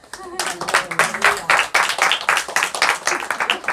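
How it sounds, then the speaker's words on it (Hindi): A congregation at a Friday church service claps hands together in a quick, uneven burst of sharp individual claps, close and lively, with a voice speaking briefly at the start. "आप सब लोग ताली बजाया"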